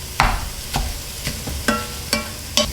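Ground meat for chili browning in a pan, a steady sizzle broken by six sharp scrapes of a utensil chopping and stirring it, spaced about half a second apart, close and moderately loud, no voices.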